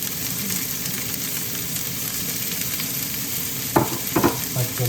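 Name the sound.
green chilli and onion frying and stirred in hot oil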